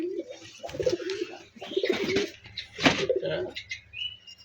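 Pigeons in a loft give repeated low, rolling coos close by, each call swelling and fading in turn, with a few brief chirps and a faint rustle between them.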